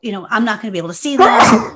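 A single loud, abrupt sneeze bursts out close up right after a stretch of speech.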